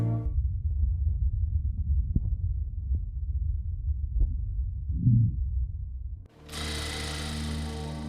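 Heartbeat of the lead actor in the film Sound of Metal, captured by a microphone placed inside his mouth: a muffled low throbbing pulse with faint thumps, then giving way abruptly to a louder, brighter broadband wash near the end.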